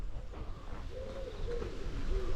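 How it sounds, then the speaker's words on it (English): Wood pigeons coo outside Bulmer Church on a morning, their soft repeated hooting phrases rising over a low outdoor rumble and growing slightly louder toward the end. "apart from 47 million wood pigeons"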